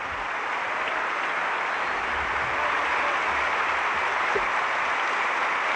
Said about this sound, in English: Crowd is on its feet.